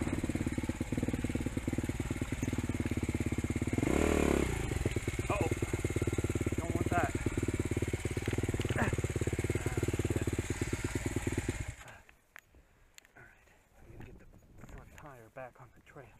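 A dirt bike on a desert single-track trail near Tonopah runs with a loud, rumbling engine for most of the stretch, then cuts out abruptly, leaving quieter rustling and wind.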